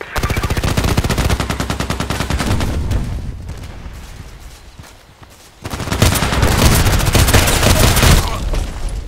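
Rapid rounds of SKS carbine gunfire in the shooter game Contract Wars crack out loudly and continuously, then fade briefly before another dense burst of shots resumes.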